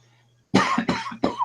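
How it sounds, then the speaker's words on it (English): Three harsh coughs in close succession, loud and close, after a brief quiet start with a faint low hum. "Drink some more and then cough some more"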